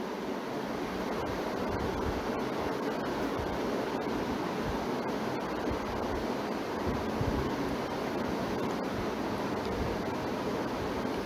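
Almond chicken curry (badam chicken curry) boiling in a pot at home, a steady close bubbling hiss that stays even throughout with faint scattered pops and no talking.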